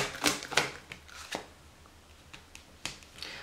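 Oracle cards being shuffled for a general reading, giving several crisp riffling bursts with quiet pauses between them, close and fairly soft, with no talking.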